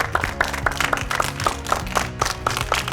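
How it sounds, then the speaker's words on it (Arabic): A group of children claps for themselves in rhythmic unison, a steady series of sharp, evenly spaced claps close by. "صفقوا على راسكم"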